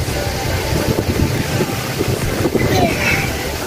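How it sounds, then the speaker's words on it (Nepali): Strong wind buffets the microphone in a steady, loud rumble, with gusts rising and falling throughout. "हावा एकदमै लागेको छ आज"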